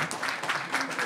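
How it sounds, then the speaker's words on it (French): An audience at a panel discussion claps briefly, a short burst of dense applause with a voice faintly mixed in. "On peut l'applaudir."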